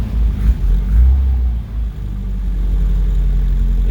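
A 1973 Opel GT with a carbureted engine idles just after a cold start at slightly high RPM, a close, steady low rumble with an uneven blip in the first couple of seconds before settling.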